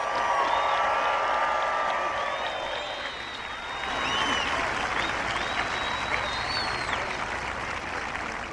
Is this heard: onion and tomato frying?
no